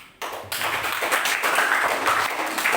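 A classroom of students claps after a group presentation in a biology lesson, the dense patter starting abruptly, swelling within half a second and holding steady and fairly near.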